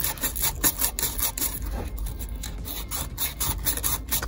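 Sandpaper is rubbed by hand over a painted VW Beetle swing axle gearbox in quick back-and-forth strokes, a close, raspy scratching with a steady uneven rhythm.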